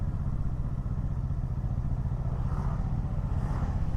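A Kawasaki ER6N motorcycle idling steadily nearby, a low, even, throbbing engine rumble with no talk over it.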